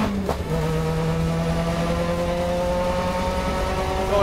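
A Subaru time attack race car accelerates hard away from the start at a Global Time Attack Super Lap Battle event, its engine note climbing steadily through the revs, loud and close with no talk over it.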